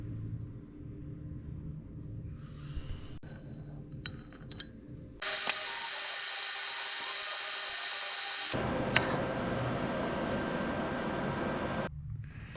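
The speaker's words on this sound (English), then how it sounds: "Then I cut the sides off the wheel hub to make room for the axle." A power tool cuts the sides off a metal wheel hub for a bike build, shifting between a low rumbling grind and a loud, sustained high-pitched cutting whine in long continuous passes, with occasional clinks, close by.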